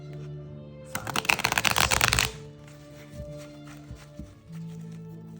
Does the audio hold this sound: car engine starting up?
no